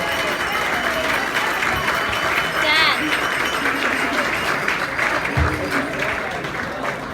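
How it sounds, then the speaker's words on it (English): Wedding guests clapping warmly after a speech, a steady patter of many hands close by, with voices calling out and chatting through the applause and a brief thump partway along. "let's give Mr. Ferguson another round of applause"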